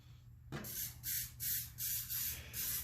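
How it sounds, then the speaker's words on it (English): Short hissing bursts of cooking spray onto a hot cast-iron pan, four or five in a steady rhythm, close and fairly loud. "She's nice and hot now, so we're gonna go ahead and spray it."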